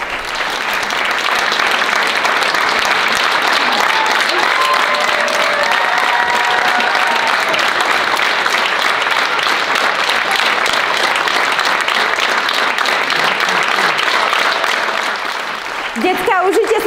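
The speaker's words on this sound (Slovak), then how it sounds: "užite si tento potlesk, patrí vám za to, aké úžasné predstavenie ste nám dnes pripravili" Dense, sustained audience applause fills the hall after a children's dance school performance, loud and steady throughout with crowd noise and a few voices underneath, tapering briefly near the end.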